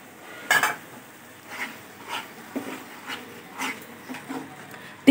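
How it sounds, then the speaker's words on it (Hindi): Marinated masala roasted in a pot for smoky chicken tikka biryani, heard as a series of separate metallic spoon scrapes and clinks against the pot over a quiet background, one loud knock at the start and another at the end. "मैरिनेट किया हुआ जो मसाला बच गया था वो भी हम इसमें सारा ऐड करेंगे और अच्छे से भून लेंगे।"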